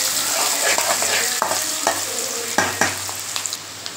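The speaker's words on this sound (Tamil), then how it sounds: "வெங்காயம் நல்லா வதங்கிடுச்சுங்க." Onions sizzle steadily in a hot pan for a fish curry while a spoon scrapes and stirs, producing sharp clinks and clacks at irregular moments.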